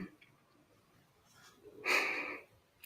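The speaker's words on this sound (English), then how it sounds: "I'm always sniffing." A single short, sharp sniff through the nose close by, after a few quiet breathy sounds.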